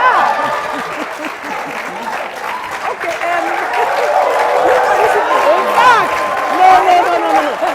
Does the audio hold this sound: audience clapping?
yes